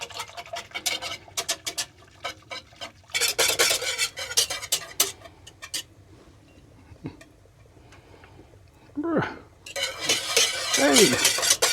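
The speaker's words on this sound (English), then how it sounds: "we want to be constantly whisking" Butterscotch pudding whisked in a pot, rapid rhythmic metallic scraping in bursts separated by quieter pauses, close and clear, with a few brief squeaks near the end.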